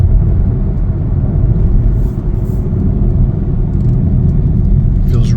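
A 2024 Chevrolet Trax 2RS on the road gives a loud, steady interior rumble of tyres and engine throughout, with no clear changes in pace.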